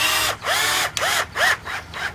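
A power drill drives a screw into wood in a vegetable garden, with four or five close, loud whirring bursts separated by short pauses as the motor spins up and stops.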